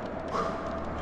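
Dogs bark and yelp in the horror video game Until Dawn, a short burst of steady, fairly loud canine noise over a continuous game soundscape.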